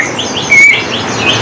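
A young Banyuwangi green leafbird (cucak ijo) gives a brief, bright whistled chirp over a steady hiss of background noise, a single clear note standing out near the middle.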